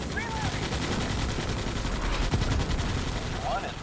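Rapid automatic gunfire in the Starship Troopers: Extermination video game, a loud sustained stream of machine-gun shots, with voices shouting over it.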